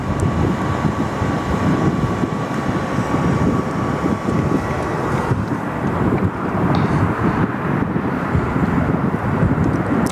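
A domestic departure airliner taxiing across a taxiway at Sydney Airport, a steady continuous engine rumble with a faint whine, heard from a distance and mixed with wind noise throughout.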